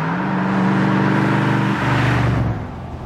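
A custom car in Texas with loud lake-pipe exhausts roars nearby, a deep steady rumble that shifts pitch partway through and then eases slightly near the end.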